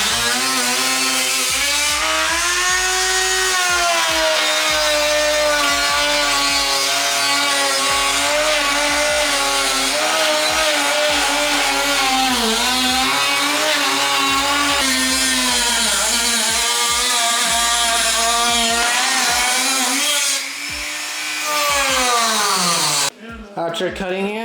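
A power tool cuts a hole in a BMW trunk lid, whining loudly and steadily at close range with rising and falling pitch as the load shifts, easing off near the end.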